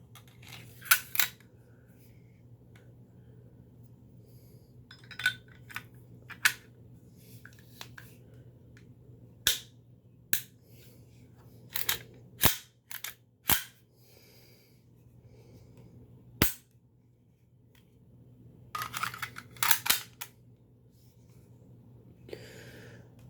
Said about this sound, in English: let's put this beast back together.